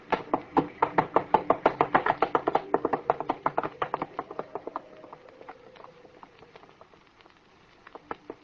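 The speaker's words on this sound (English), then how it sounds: "Leave the horses, Wallace." Horses' hooves clop in a radio drama, a fast, close, loud run of hollow knocks that gradually slows and fades into sparse, softer taps before a final few clops, with no voices.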